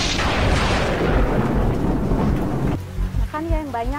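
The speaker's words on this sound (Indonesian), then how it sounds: "Ngapain di luar hujan-hujan kayak gini?" Heavy rain falling outside, a loud dense rushing wash that fills the first few seconds before cutting off abruptly. A voice follows against a quieter background.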